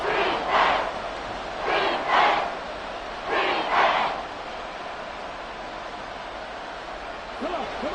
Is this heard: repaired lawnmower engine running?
no